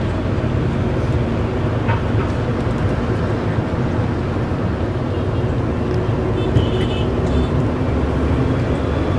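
Rush hour street traffic in Ho Chi Minh City rumbles continuously, a dense steady wash of engines and road noise with a faint horn or two, close and moderately loud.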